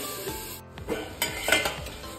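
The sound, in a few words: papaya pieces frying and stirred in a pan on medium flame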